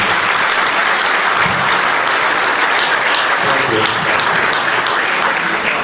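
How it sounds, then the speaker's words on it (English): A crowd at a 2016 Hall of Fame ceremony in Bucks County gives a loud, sustained round of applause that fills the room throughout, with a voice faintly heard beneath it. "I think you guys all deserve a round of applause from us."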